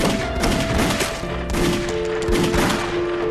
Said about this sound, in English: The killers were suddenly interrupted by the sound of gunshots.